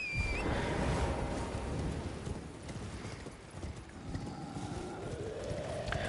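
Horse hooves gallop in Elden Ring, a steady clip-clop rhythm running close and fairly loud under a bed of game ambience and wind throughout.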